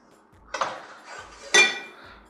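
Pasta being stirred in a pot of salted water with oil: two distinct metallic clinks and scrapes of a utensil against the pot, close and fairly quiet.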